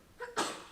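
A single quiet sneeze in a lecture room, a short intake followed by a brief burst that fades quickly.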